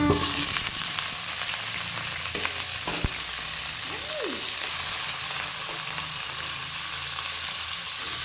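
Chicken pieces sizzle and fry in a pan for arroz caldo, with browned onions, giving a steady close crackle with occasional stirring scrapes and no talking.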